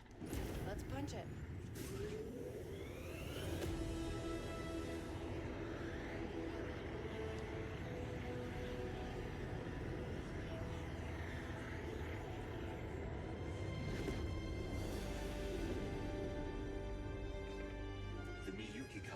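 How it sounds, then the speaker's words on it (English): A starship hyperdrive spools up and jumps in Star Wars Outlaws, a sustained roaring engine drone with rising whines and sweeping tonal swells, loud and continuous throughout, layered with game music and effects. "Spooling up the hyperdrive."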